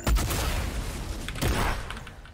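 Video game gunfire in Fortnite, a short burst of sharp shots at the start and another cluster around the middle, moderately loud with no talk over them.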